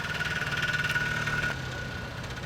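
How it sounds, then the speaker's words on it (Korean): A Messerschmitt Kabinenroller three-wheeled microcar engine idles with a weak, rough putt-putting rumble and a faint whine, steady and close, then drops slightly in tone. "경운기에서나 들릴 법한 약하고 거친 엔진 소리를 내며 3륜차도 등장한다."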